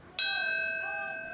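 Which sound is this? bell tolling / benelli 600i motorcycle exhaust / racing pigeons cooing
bell tolling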